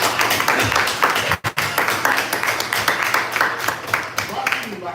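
Audience at a poetry book event applauding for Reggie, with steady, dense clapping from many hands and a brief pause before it continues, while a voice talks over it.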